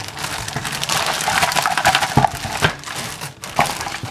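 A large plastic bag holding a vinyl model kit is moved around by hand, giving continuous close crinkling and rustling with a few sharper crackles and no voices.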